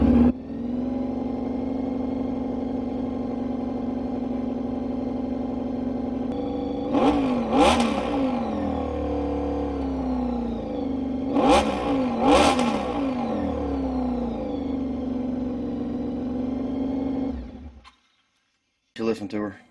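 A 1997 Honda VFR750F Interceptor motorcycle engine idles steadily up close, with several sharp throttle revs rising and falling, then cuts off near the end.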